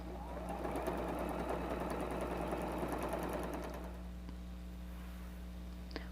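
A sewing machine quilts a patchwork apron, running with a steady close mechanical whir and rapid needle ticking for about four seconds before slowing and stopping, leaving a low hum.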